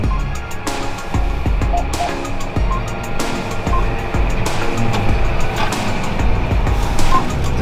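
Steady drone of a John Deere 6195R tractor driving across a field, a continuous loud close engine and drivetrain rumble with occasional knocks and rattles, no talk.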